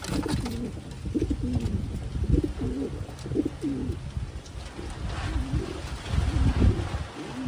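Pigeons in a loft at night give repeated low, throaty coos close by, overlapping one another in a continuous murmur against faint background rumble from wind outside.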